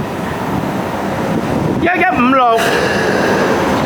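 A Hong Kong Light Rail Phase 5 train on route 505 rolls past platform 2 of Kin On stop with a steady, close roar and wind buffeting. A brief warbling squeal rises midway, and a voice speaks briefly.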